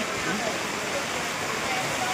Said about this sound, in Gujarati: આ પાર્કિંગમાં પાણી જઈ રહ્યું છે